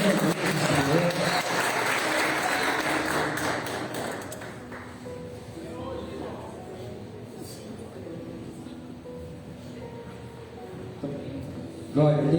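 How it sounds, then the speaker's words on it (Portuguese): A church congregation at a Wednesday evening service claps loudly for several seconds, the applause thinning and fading under a voice and soft background tones. "Você pode aplaudir mais uma vez o Senhor."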